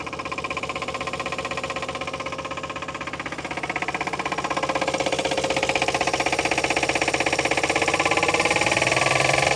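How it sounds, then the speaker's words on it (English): The engine of a 1962 Chevy Biscayne, left sitting over 40 years, idles roughly with a steady mechanical knock running through it, close and loud, growing slightly louder toward the end. "you can definitely hear how bad she's knocking over here though"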